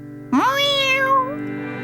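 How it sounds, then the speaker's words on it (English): A cat in a cartoon setting gives a single drawn-out, rising-then-falling meow, clear and close over a faint background hum. "Meow! Meow! Meow!"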